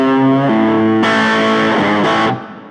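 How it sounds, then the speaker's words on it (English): Distorted electric guitar with reverb added in Logic, played as loud sustained chords that ring out and trail off in a wash of reverb at the end. "put reverb in Logic, so you can hear the difference with a little bit of reverb splashed in there"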